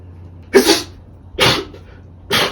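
Three loud, close sneezes from a man with allergies, coming in quick succession about a second apart, each a sharp explosive burst with silence between.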